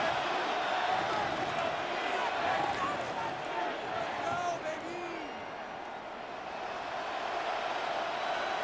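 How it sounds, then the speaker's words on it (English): Stadium crowd noise in Madden NFL 26 builds as a dense, steady roar of cheering, loud throughout with a slight dip midway, beneath occasional game commentary. "The crowd cranking it up another notch before third and long."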